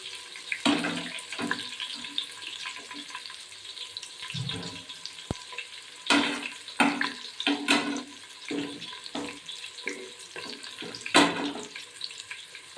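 Onions and green chillies frying in a pan for kushka, giving a soft, steady hiss and sizzle with scattered louder crackles and bursts throughout.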